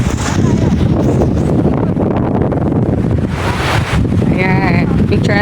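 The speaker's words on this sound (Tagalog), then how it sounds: "Ang sarap po sa tenga ng tunog ng tubig. Habang humahampas-hampas yung alon." Sea waves washing onto the shore at Masasa Beach in Tingloy, Batangas, a steady close roar of surf with heavy wind buffeting the microphone throughout.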